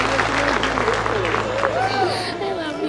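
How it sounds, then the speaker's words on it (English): Diners applauding in a busy restaurant dining room after a proposal, a clatter of clapping mixed with crowd chatter while someone speaks loudly over it. "Big round of applause."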